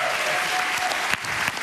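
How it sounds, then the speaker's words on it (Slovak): Studio audience applause following a waltz on a televised dance competition, a dense, steady wash of clapping from a large crowd filling the whole stretch. "Zasloužený potlesk za poslední valc."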